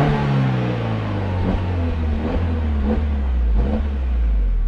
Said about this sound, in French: On entend presque plus le bruit moteur à l'avant que le bruit échappement.